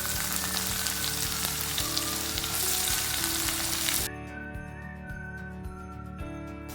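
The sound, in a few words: coriander seeds, cumin and onion frying in a pan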